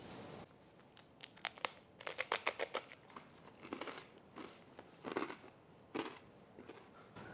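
Toasted baguette crostini topped with a bean mixture gets bitten and chewed up close, a quiet series of crisp crunches clustered in small bursts with no talking.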